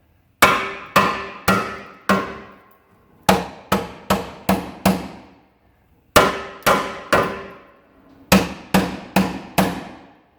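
A hammer pounds a moving bushing part on a camper in four quick bursts of metallic blows, each series of about four to five ringing strikes, loud and close with short pauses between.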